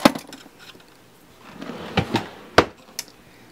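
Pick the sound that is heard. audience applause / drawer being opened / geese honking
drawer being opened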